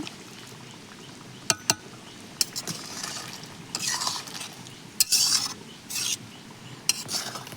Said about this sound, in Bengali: এবার একটু নাড়াচাড়া দিয়ে নেব